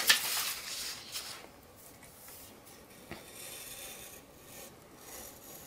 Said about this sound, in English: I'm just cutting off the excess.